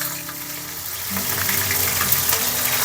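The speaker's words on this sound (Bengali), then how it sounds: "সর্ষের তেল দিয়ে দিলাম আমি আগে চিংড়ি মাছটাকে একটু ভেজে নেব" Prawns coated in salt and turmeric fry in mustard oil, the sizzle swelling after a moment into a loud, bubbling crackle close by.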